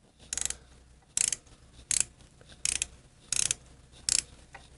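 A ratchet turning a 12-point, 1/4-inch socket on a screw while hydraulic lifters and blocks go into a Shovelhead engine: six short, crisp bursts of ratcheting clicks, evenly spaced and close by, with quiet pauses between them.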